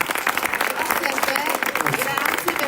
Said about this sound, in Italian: Quindi facesegli un applauso